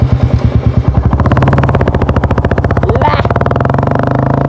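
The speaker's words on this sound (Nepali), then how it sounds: "बाइकको मात्र साउन्ड आउँछ होला।" A motorcycle engine runs steadily while being ridden on a trip toward a dam, its loud, rhythmic putter close and continuous throughout with a brief rising whine near the end.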